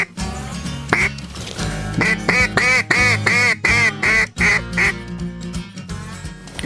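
Ducks quack loudly and close on a river during a hunt, a rapid rhythmic run of about a dozen raspy calls in a burst, then a few scattered quacks trailing off.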